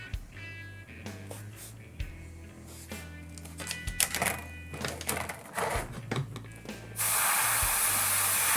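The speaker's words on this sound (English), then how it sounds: "Spray that and then have a little look." Clicks, rattles and a low hum lead into a loud, steady hiss of spray that keeps going to the end.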